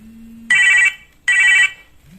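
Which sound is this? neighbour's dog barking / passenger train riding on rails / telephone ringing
telephone ringing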